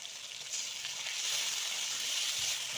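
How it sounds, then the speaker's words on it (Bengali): Ginger-garlic paste sizzles in hot oil with fried onions and tomato in a pan, a steady, close frying hiss that swells slightly after the first half second and holds without talk. "এবার আদা রসুন বাটাটা দেব।"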